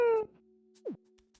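Cartoonish cat in the Tomodachi Life video game gives one short, falling meow in an otherwise quiet moment, preceded by a brief electronic tone and followed by a faint steady hum.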